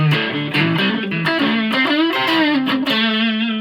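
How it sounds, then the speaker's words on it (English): An electric guitar runs through a JHS 3 Series distortion pedal set for only a light distortion boost, playing sustained chords and notes at a steady, fairly loud level with no voice. "what have I set to not very much distortion, just as a sort of slight boost"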